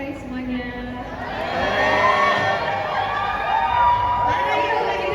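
At a gala film premiere, a large crowd shouts and cheers in a dense, sustained roar, with excited screams rising over the din and a voice through a microphone mixed in.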